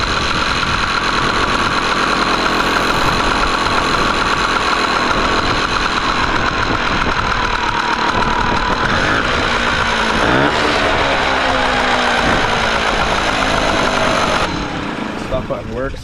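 An outboard motor idles steadily and loudly, its engine note shifting slightly as the throttle is backed off, then dropping away near the end; someone talks over it.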